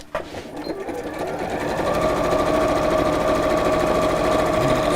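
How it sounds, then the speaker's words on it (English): A domestic sewing machine stitches through thick layers of fabric and quilt wadding with a close, steady, continuous mechanical whirr and rapid needle chatter, running alone without talk. "you may find your sewing machine slows down a little bit when you're sewing through lots of layers of fabric and wadding"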